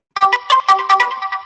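A phone call ringtone plays on a laptop, a loud, close electronic melody of short bright tones in quick succession that starts abruptly after a moment of silence.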